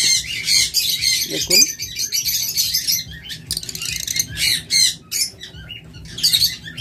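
A pair of pet birds for sale at a bird market squawk and chirp in repeated bursts, loud and close, with someone talking briefly and market bustle behind.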